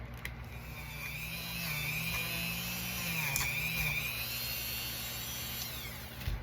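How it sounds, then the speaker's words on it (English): A Dremel rotary tool cleans up a small part. It gives a continuous, fairly quiet high-pitched whine that holds steady for the whole stretch. "I'll clean it up with my Dremel tool"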